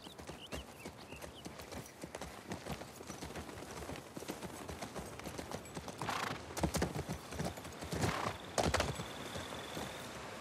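Horse hooves clip-clop at a steady walking rhythm in The Last of Us Part II, continuous and fairly close, with a few louder hoof strikes toward the end and no clear talk.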